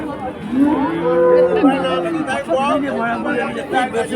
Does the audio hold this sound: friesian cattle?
yes